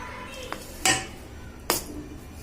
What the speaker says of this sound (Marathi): आता हे सगळं आपल्याला मिक्स करायचं आहे सगळं हे मिक्स करून घेते मी आता